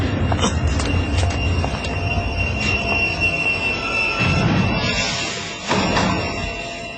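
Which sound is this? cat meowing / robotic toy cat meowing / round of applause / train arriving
train arriving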